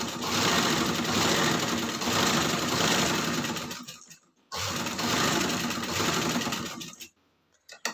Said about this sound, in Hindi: लेस को सिलाई लगा रही हूँ।